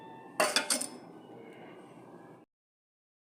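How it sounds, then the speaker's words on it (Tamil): A spoon clinks and scrapes several times against a pan as salt and chili powder are stirred into mango. It is quiet and close, with a faint steady hiss under it, then it stops abruptly. "உப்பு காரப்பொடி எல்லாம் நல்லா கலர்றாப்பில் கிளறி கொடுத்தாச்சு"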